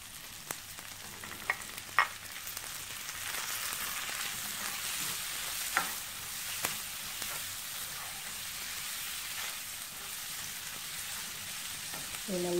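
Tomatoes sautéing in a pan for egg pasta make a quiet, continuous frying hiss broken by occasional spatula clicks and scrapes, with a few louder taps early on.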